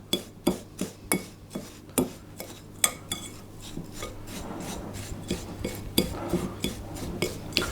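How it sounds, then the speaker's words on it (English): Melted butter is mixed into biscuit crumbs in a bowl for a cheesecake base, producing a steady series of close, rhythmic spoon scrapes and taps that give way to continuous gritty stirring. "we're just going to mix that until the butter is spread evenly between the crumbs"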